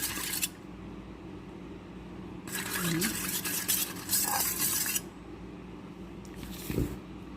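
An eggstick mixture seasoned with vinegar and black pepper is stirred in a pan, with scraping, swishing strokes coming in a louder stretch midway and again near the end over a steady low background.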